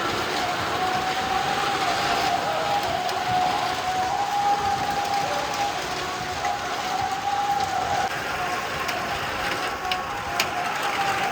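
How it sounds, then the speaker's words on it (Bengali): Heavy rain pours steadily and loudly close by, a dense continuous hiss with scattered drop impacts and no pauses for the full length. "বৃষ্টি পড়তেছে প্রচুর"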